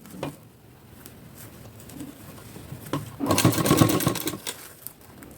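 A sewing machine stitches a plain four-tuck blouse in short runs, quiet at first and then a louder rapid whirring burst near the end, with soft background noise between.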